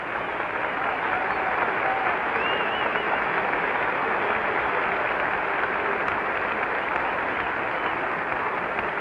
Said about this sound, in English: Koufax getting a round of applause as he makes his way up to the plate.